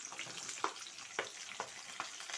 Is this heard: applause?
no